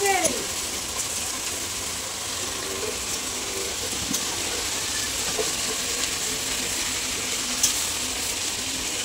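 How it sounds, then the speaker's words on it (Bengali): Whole katla fish frying in a pan of hot oil, a steady close sizzle that carries through the whole stretch, with occasional faint clinks of utensils and no voice over it. "পুরো মাছ ভাজা হয়ে গেছে"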